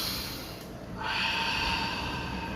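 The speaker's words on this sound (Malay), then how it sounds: "Tarik nafas ya." A person draws a deep breath in through the nose during a spiritual breathing exercise, a close airy intake that swells and holds, with no talking.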